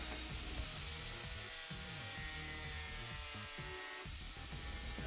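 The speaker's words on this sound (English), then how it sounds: "take the rest off with the angle grinder" An angle grinder whines steadily and loudly while grinding excess MDF off a bullnose baseboard corner, with a brief dip in pitch near the end as the disc bites into the board.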